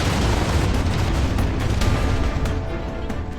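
A meteorite strikes the Appalachian Mountains in a massive impact explosion, heard as a dense, loud, continuous roaring rumble with no talking.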